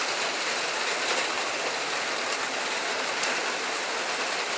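Steady rain falling on an allotment garden during a summer thunderstorm, a dense continuous hiss with faint patters and drips throughout, no voices.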